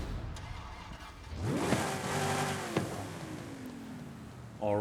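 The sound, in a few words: Ford Mustang Boss 302 engine starting and revving, Forza Horizon 5 video game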